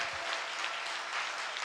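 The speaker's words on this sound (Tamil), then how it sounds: "கைத்தட்டுங்க பார்க்கலாம்." A church congregation at a Sunday service claps hands together, an even, sustained patter of many hands at moderate volume, with a faint low thump at the very start.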